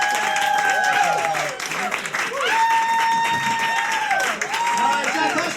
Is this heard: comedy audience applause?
yes